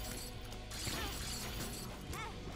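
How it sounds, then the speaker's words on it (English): Glass shattering from the Glass Spin Down item in The Binding of Isaac: Repentance rings out over dense game sound effects and music, bright crashing texture layered with other busy in-game noises. "Oh, I just used my glass spin down by accident."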